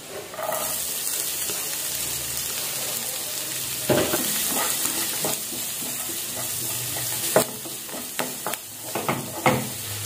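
Chopped onion sizzles steadily in hot ghee with garlic and curry leaves in a pan, with a constant frying hiss broken by sharper clatters of stirring.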